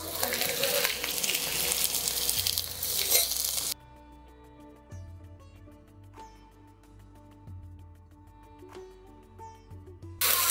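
Chopped bottle gourd and potato fry in a pan with a loud, dense sizzle for several seconds, which then drops away to quieter background tones and light knocks.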